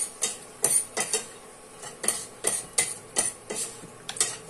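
A utensil repeatedly scraping and clinking against a pot while patola and sotanghon soup with sardines is mixed, irregular bright taps, fairly faint and close, with no talking.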